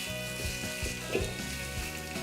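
Onions tossed with oil and sea salt sizzle steadily in a pan, a soft continuous crackle at low volume with light stirring, no voices.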